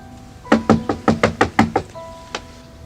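Knuckles rap on a wooden door in a quick run of about eight loud, close knocks, then one last single knock after a short pause.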